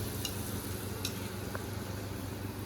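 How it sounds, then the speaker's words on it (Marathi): Anarse fry in hot oil with a steady, soft sizzle and faint bubbling throughout, broken by a few small ticks and pops. "आता याला तळून घेऊया."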